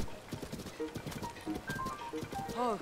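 Hoofbeats clip-clop rhythmically from horses in The Legend of Zelda: Tears of the Kingdom, ending in a short whinny, close and clear beneath a person speaking.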